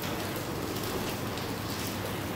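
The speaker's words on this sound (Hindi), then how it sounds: "हमारे यहाँ ये बारिश हो रही है" Light rain falls steadily outside a building in Karachi, a dense, even patter and hiss with no breaks.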